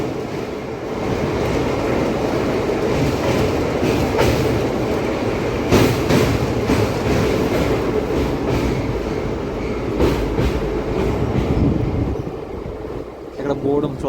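A Singareni MEMU local train rolls along in a loud, continuous rumble heard from onboard, with repeated rattling clacks and brief louder jolts, and faint voices mixed into the noise.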